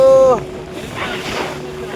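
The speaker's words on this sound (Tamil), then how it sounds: "கடல் அலைகள் சூப்பரா இருக்கு." Sea waves rush and hiss against a small boat riding over swells, with steady wind noise across the whole stretch; a brief tonal whistle or voice sound opens it before settling into broadband churn.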